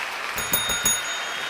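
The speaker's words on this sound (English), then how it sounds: "I'm hitting my bells and stuff." Small bells are struck by hand in a few quick, bright metallic rings with a short sustain that stand out over a soft background hum, with no talking.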